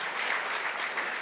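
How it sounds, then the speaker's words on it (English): Brief, fairly faint round of applause from an audience at a public talk, an even wash of many hands clapping with no voices over it. "So let me I'll take that round of applause too."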